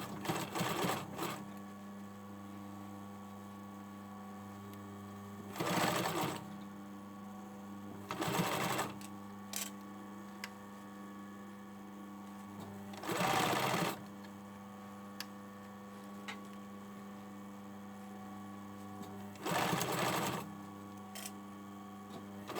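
A sewing machine stitches the side seams of a hoodie in short bursts, five or six quick rattling runs separated by pauses, close and clear against a faint steady hum, with no talk.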